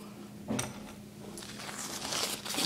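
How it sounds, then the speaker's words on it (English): Paper towel crinkling softly while dabbing wet watercolor paint on a boat painting, a few faint close rustles and a light crumple, quiet and alone with no speech. "I'm going to dab a little bit of this off with a paper towel."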